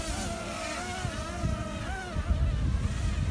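A Parrot Swing drone flies in roughly 15 mph wind, its high, wavering rotor whine rising and falling in pitch over a steady rushing wind noise, with no talking.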